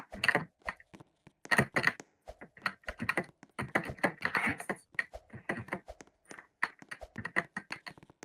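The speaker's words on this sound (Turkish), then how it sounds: "senin klavye sesini" Rapid computer keyboard typing in bursts of clicky keystrokes, steady and close, during a gaming session with no talk.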